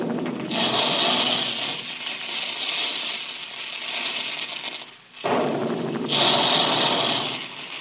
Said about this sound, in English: There go the big guns now